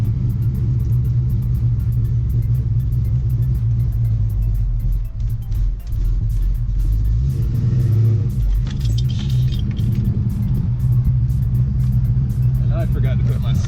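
A manual-transmission car being driven, with a loud continuous engine rumble that swells as it revs, heard from inside the cabin throughout.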